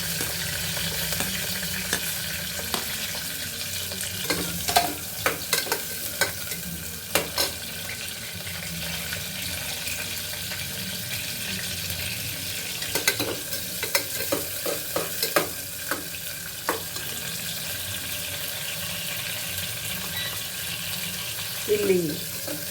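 Chopped onion sizzles steadily in hot oil in a pan for tomato bath, with intermittent scraping and clinks as it is stirred, continuous and fairly close.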